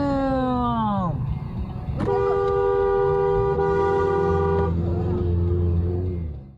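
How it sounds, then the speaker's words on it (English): A car horn honks from a vehicle stuck behind a minivan on the road, with sustained loud toots over engine and road noise, and a tone that shifts partway through. "You can hear the driver behind him honk all the time"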